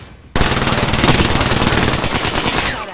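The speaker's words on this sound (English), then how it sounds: "Why are you shooting me?" Rapid automatic gunfire from a first-person shooter, starting abruptly after a brief quiet moment and continuing as a loud, dense, steady stream of shots to the end.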